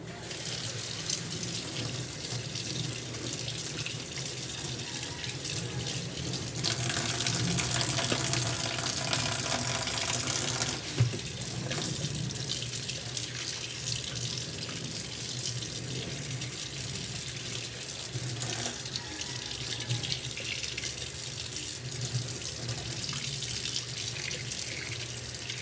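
Running tap water flows steadily and close by as a mayamaya (bighead) fish is cleaned at a sink, the stream swelling louder in the middle before settling back to a constant wash.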